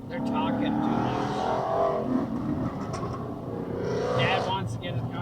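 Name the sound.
car engine running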